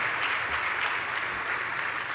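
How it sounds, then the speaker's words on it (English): A dense crowd at the D.I.C.E. Awards ceremony claps steadily and energetically throughout, a continuous wash of applause with no voices standing out. "Another round of applause."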